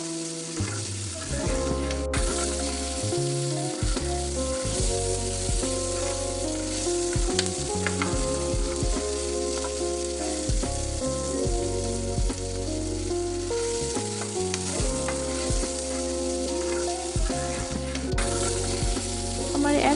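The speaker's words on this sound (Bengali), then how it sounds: "এখন আমি এটা উল্টে আরেক সাইড ভেজে নেবো" Pieces of katla fish fry in oil in a pan, giving a continuous loud sizzle with bursts of crackling, under steady background music throughout.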